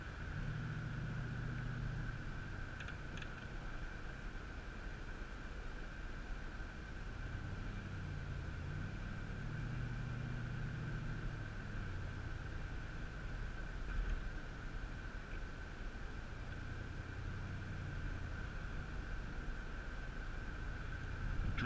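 A 1999 GMC Yukon SLT with a 350 Vortec V8 drives along, its steady low engine and road rumble continuous inside the cabin, with a faint constant whine and gentle swells as it accelerates; no talking.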